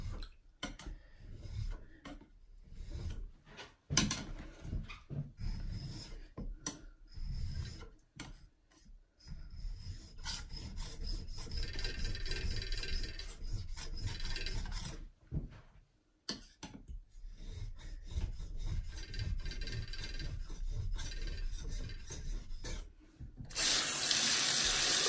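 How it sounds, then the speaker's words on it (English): A Mora knife is drawn over a flat natural whetstone in repeated rasping, scraping strokes with brief pauses between passes, close and steady for most of the stretch. "the first few sharpening sessions with a flat stone, then the Mora knife starts to take a little bit of a better profile"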